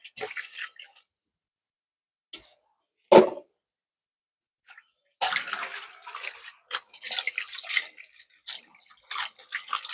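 Green onions washed under running water, with intermittent splashing and trickling bursts separated by quiet gaps, close and fairly soft.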